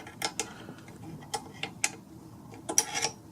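A nut turned clockwise under the frame of a Creality Ender 3 Pro 3D printer, making a handful of faint, close metallic ticks and ratchety clicks spaced irregularly over a quiet background.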